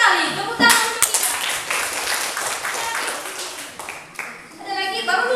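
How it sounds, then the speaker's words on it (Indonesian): A classroom of students claps hands together in a lively burst, close and loud, with children's voices chattering over and around the clapping and a teacher's voice near the end. "Tepuk tangan untuk kita"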